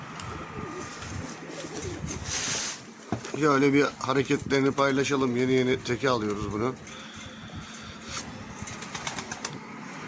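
A pigeon is released, cooing and flapping its wings nearby as people talk over it, with outdoor background noise throughout.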